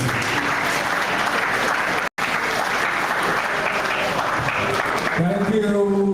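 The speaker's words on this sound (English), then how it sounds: "Let us give Mr. Williams a round of applause again, please" An audience at a research day gives a sustained round of applause after a presentation, steady and dense clapping filling the room, briefly cut off once, before a voice begins speaking near the end.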